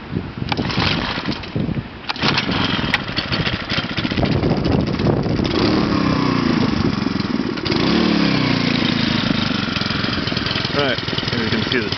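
A small motorized bicycle engine runs steadily and loudly throughout, with some rising revs from the throttle; voices talk over it.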